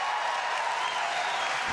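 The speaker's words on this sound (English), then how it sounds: "The crowd is roaring." A crowd at a professional pickleball Grand Slam match in Arizona roars and applauds steadily for nearly two seconds, a loud, dense wash of cheering with no break.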